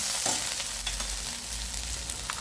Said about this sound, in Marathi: कांदा टाकल्यानंतर चांगला परतून घ्यायचा लाल तांबूळ त्याचा रंग येऊपर्यंत भाजून घ्यायचा